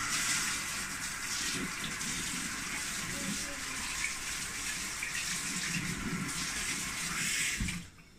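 Cold water gushes steadily from a pipe in a Jamaican kitchen, a loud continuous splashing rush that cuts off abruptly near the end.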